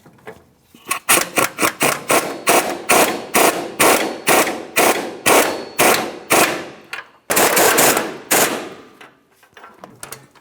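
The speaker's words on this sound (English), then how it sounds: "Let's get our brand new locking nuts on here. We'll just go ahead and start each of them on, and then we'll bottom them out." New locking nuts being run down on the upper control arm of a 2002-2005 Ford Explorer, rapid repeated ratcheting bursts, loud and close, with a brief pause before a final run of clicks.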